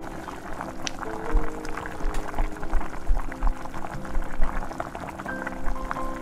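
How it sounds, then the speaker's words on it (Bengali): Mango and pointed gourd curry gravy boiling in a pan, a close, continuous burble of boiling liquid with irregular soft pops and a low background hum. "গ্রেভির জলটা খুব ভালোভাবে ফুটে উঠলে"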